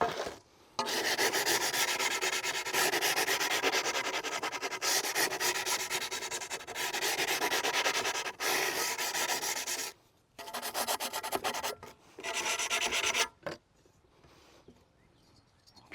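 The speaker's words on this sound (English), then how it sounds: "Just sand this up a little bit." Tile edging in a shower window surround is sanded by hand in long, loud, close rasping strokes that run almost continuously, then break into a few shorter bursts before stopping.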